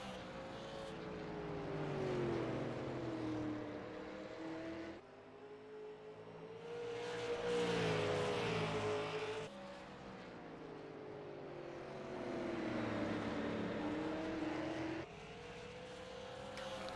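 Super late model dirt race cars roar around a dirt track, engines droning and swelling as they pass, with steady loud pitch sweeps and brief dips between passes.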